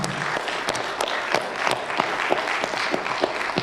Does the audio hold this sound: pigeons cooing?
no